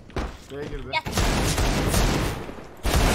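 Gunfire bursts in a Turkish-language tactical shooter game match, loud rapid shots and impacts running through most of the stretch while players talk excitedly over them.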